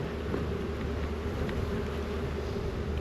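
Honeybees in an open hive, including many nurse bees on white wax frames, make a steady, dense buzzing drone close by. It holds a fairly even level throughout with no talk.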